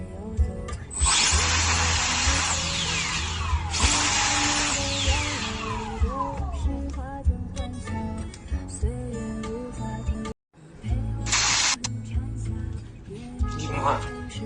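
A handheld battery-powered turbo jet fan blower whines at a high pitch, spooling up and down through several bursts with one brief cutoff, close and loud, with someone speaking over it.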